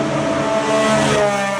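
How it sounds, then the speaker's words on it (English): A Formula 1 car with a Honda engine leaves the pits during preseason testing, its steady high-pitched engine drone loud and sustained and rising slightly, with no voices. "that car leaving the pits this morning. It's sounding good in that Honda engine."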